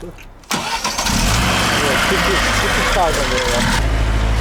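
An old Moskvich car engine cranks and starts after a brief pause, then settles into a loud, close, slightly uneven idle; someone talks over the running engine.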